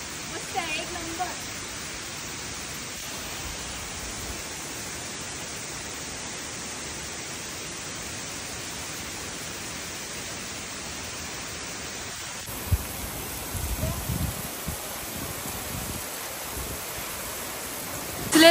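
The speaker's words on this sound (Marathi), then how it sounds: "पाण्याचा आवाज केवढा जास्त येतोय ते बघा. किती प्रेशरने पाणी पडते." Baba waterfall in the Sindhudurg hills of Konkan pours down with great force, a loud, continuous broadband roar of falling water heard close by and unbroken, with a brief shift in tone partway through.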